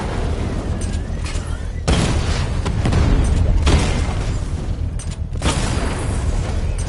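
Heavy booming blasts as a Rattler vehicle is struck in Batman: Arkham Knight, several loud explosive bursts with rumbling low-end tails separated by brief gaps across the clip.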